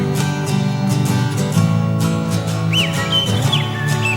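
A referee's whistle blows within a song, a few rising and falling whistle notes rising over full, steady band music.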